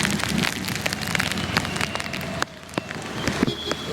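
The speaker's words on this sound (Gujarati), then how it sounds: "ઘેરે પૂગ્યા ને બેઠા તો વરસાદ ચાલુ થયો જોરદાર." Heavy rain pours down in Junagadh, a dense close hiss of drops pattering on surfaces with occasional louder splashes, steady throughout with no talk.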